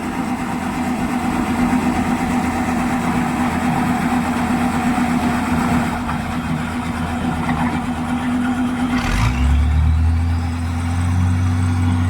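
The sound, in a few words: Hitachi excavator engine running while unloading a truck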